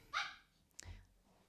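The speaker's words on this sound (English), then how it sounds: "Sorry, it's my dog." A dog barks once, loud and close, followed a moment later by a second shorter yip, in an indoor room during a casual hangout.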